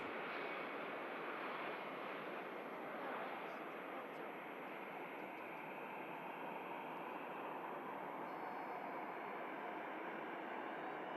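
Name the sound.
Embraer jet landing rollout at Manchester Airport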